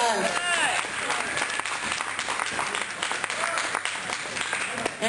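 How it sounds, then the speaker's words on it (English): An audience claps in sustained, enthusiastic applause, with a voice speaking over it. "we also need to give a big round of applause for Scott"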